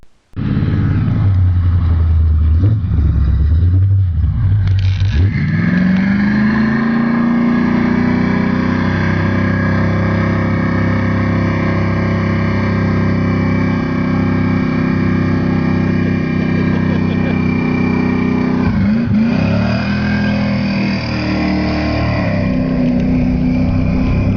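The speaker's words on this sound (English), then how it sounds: "he's going to get tonight's show started with a super burnout of this beautiful 1978 Pontiac Trans Am Macho TA" A 1978 Pontiac Trans Am Macho TA roars up close and loud into a burnout, its engine climbing to a sustained high-rev howl that holds steady for a long stretch and then dips and flares again near the end.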